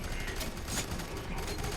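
Rapid gunfire bursts crackle through a co-op shootout in the video game F.E.A.R. 3, dense and continuous with faint voices underneath.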